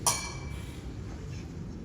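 Glasses clink once sharply at the start of a cocktail toast at a company summit event, followed by a low room murmur that continues without further clinks.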